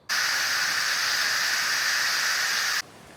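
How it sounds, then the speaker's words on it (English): A pressure cooker that has been braising pork leg lets out its steam in one loud, continuous hiss lasting nearly three seconds, then cuts off abruptly to near quiet. "the pressure has been fully released"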